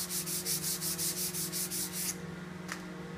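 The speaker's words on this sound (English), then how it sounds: "you can take the sandpaper from the care kit, sand it out" Sandpaper rubs out a scratch on the wooden arm of a folk rocker in quick, even back-and-forth strokes, a rhythmic close scratching for two seconds before it eases into a quieter hiss, no speech.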